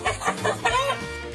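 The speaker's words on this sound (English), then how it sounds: "Get those chickens." Farm chickens cluck and squawk in quick bursts, close and fairly loud, across a brief moment.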